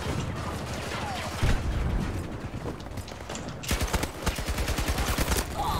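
Rapid submachine gun hip fire in Battlefield 2042, a fast stuttering stream of close, loud shots that intensifies into quick crackling bursts, with mechanical clatter mixed in.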